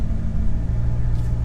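Hellcat-swapped Jeep Gladiator, over 750 hp, idling with a deep, steady low rumble, loud and close, with no talk over it.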